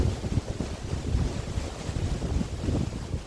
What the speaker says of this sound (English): that was very windy.